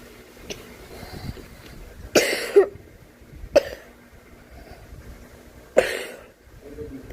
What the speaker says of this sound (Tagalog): May ubo ako